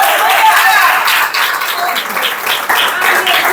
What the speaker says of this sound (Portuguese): aplauso eterno.